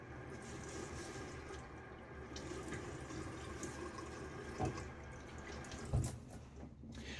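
Water runs from a sink tap to rinse a safety razor, a steady broadband wash of flow continuing throughout, with a couple of brief splashy knocks near the end.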